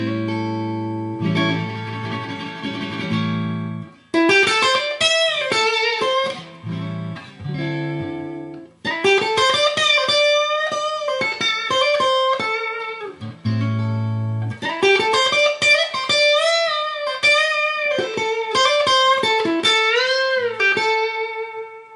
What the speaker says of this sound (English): There, I just bent that note to that note.